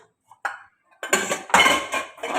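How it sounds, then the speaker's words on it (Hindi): Dishes and pots clatter in a home kitchen sink as they are washed, a few isolated clinks followed by a dense run of loud metallic scraping and knocking, close by. "बस डायरेक्ट बर्तन धोने हैं"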